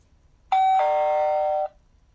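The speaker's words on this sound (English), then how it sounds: "One of the things that I don't like about video doorbells is the noise that they make." A Lorex 2K QHD video doorbell gives a single artificial electronic chime on a button press, a clean sustained two-part tone lasting about a second, loud and close in an otherwise quiet room.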